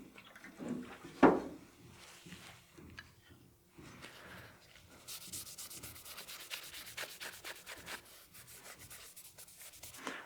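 Someone wipes oily Bocote wood with an acetone-soaked cloth, producing quiet, close rubbing and swishing strokes in an irregular rhythm, with a few soft knocks.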